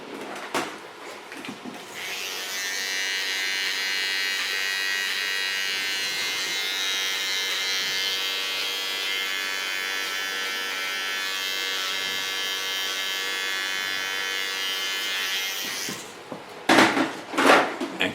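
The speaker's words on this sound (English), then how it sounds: "Clean this line with a small clipper." A small electric hair clipper trims hair on an asymmetric bob haircut, running in one steady, close, loud buzz for about fourteen seconds, with brief handling clicks before and after.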